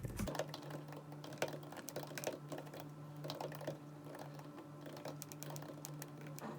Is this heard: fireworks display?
no